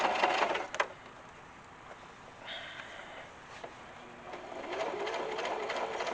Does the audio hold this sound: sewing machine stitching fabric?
yes